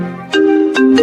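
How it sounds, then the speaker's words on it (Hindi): A phone ringtone chiming in a house, a short loud melodic series of bright electronic tones rising in steps, close by with no talk over it. "अब ये किसका फोन आ गया?"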